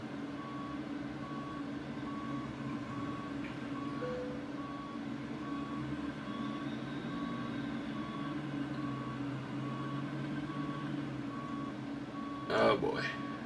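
Regular reversing beeps from a truck backing a trailer in a trucking video game, a steady evenly spaced tone over a low engine hum, with a brief clatter near the end.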